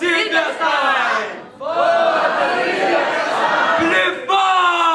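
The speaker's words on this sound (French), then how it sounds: "je vous demande de crier plus fort avec moi" A loud school-event audience shouts a name together in long, sustained group cries, with a short dip before the chant swells again and holds steady to the end.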